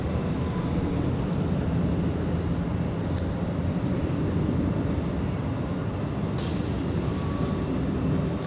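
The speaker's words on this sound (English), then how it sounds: "We do have an arrival coming in the next few seconds." An airliner arriving to land at Los Angeles International Airport, a steady distant jet rumble and hiss that holds evenly throughout, with a couple of brief sharp clicks and no voices.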